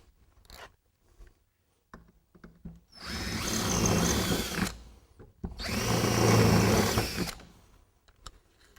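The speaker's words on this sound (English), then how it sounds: "We'll move on with our clearance drill for our 1/4 inch cap screws." Two sustained bursts of a power drill boring 1/4-inch cap screw clearance holes, loud and close, separated by a short pause and surrounded by light handling clicks, while installing a motorcycle highway peg.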